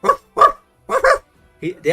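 A person imitates a dog, letting out a series of short, loud barks and yips in quick bursts with brief pauses between them.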